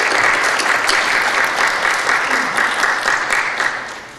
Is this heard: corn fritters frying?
no